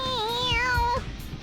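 Cat character in Persona 5 Royal gives a single drawn-out, tonal meow with a rising then falling pitch, clear and close over soft game background sound.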